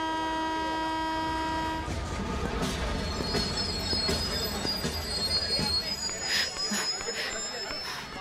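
A train at a railway station sounds its long steady horn, then rumbles on with clattering wheels and high metallic squeals, loud and close, with voices speaking underneath.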